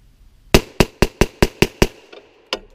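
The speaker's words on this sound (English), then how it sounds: "you can't test out a gun, obviously, without first having rapid fire" Toy gun firing rapidly outdoors in the woods, seven sharp crisp cracks in a quick even burst, followed after a short pause by a faint click and one more loud shot, no talk.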